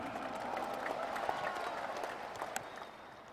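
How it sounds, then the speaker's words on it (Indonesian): Steady, moderate clapping from an audience at an Indonesian political gathering, an even wash of hands with a few sharper claps standing out, heard from some distance. "Kita berikan tepuk tangan untuk itu"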